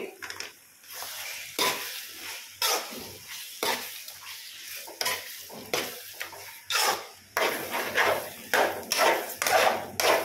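Repeated scraping and clanking of a spoon against a pot of mutton curry, in uneven strokes, with a soft sizzle between them and no talking.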